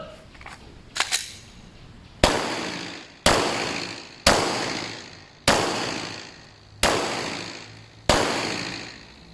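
Six loud, sharp shots from a Glock 19 pistol at target practice, fired one at a time at a steady pace about a second apart, each with a short ringing decay, with a few faint clicks of handling before the first.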